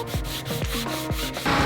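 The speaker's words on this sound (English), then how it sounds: "eventually down to hand sanding for the final pass" Hand sanding on a wooden rocket, a series of short close scraping rubs in a quick back-and-forth rhythm, with no voices.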